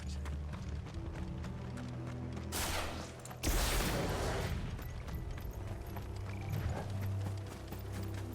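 Horses gallop in Final Fantasy XVI, hoofbeats thudding under a low musical drone, with a loud burst of noise midway and the rhythm continuing afterward.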